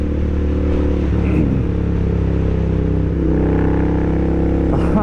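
Royal Enfield Interceptor 650 twin-cylinder motorcycle running on a remapped ECU, a loud steady engine drone with rumbling exhaust held close and constant throughout, small shifts in pitch as the bike is ridden.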